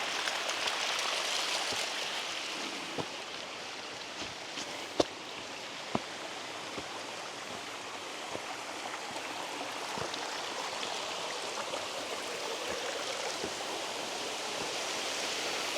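Water pours steadily from a water supply system in a video game, a continuous broad rushing flow with occasional small clicks and splashes, with no voices.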